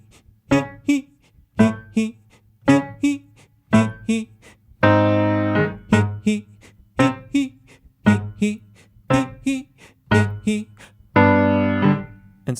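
A singer performs a vocal agility exercise in triplets, repeating short quick groups of sung notes with a breath after each group and two longer held notes between them, close and clear with no accompaniment.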